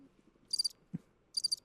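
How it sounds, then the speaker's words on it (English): Two short bursts of cricket chirping, each a quick trill of pulses, separated by a pause, with a soft thump between them in an otherwise quiet room. "Give me the crickets."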